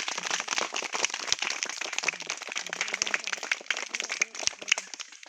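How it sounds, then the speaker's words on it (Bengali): An audience claps hands loudly together, a dense, continuous patter of many overlapping claps that stays fairly even and close for several seconds without a break. "জোরে হাত তালি বাজান"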